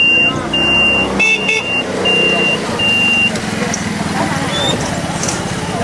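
Busy Beijing street traffic thick with motorized rickshaws, a steady engine and road rumble with a few high whistling beeps early on, voices chattering nearby throughout.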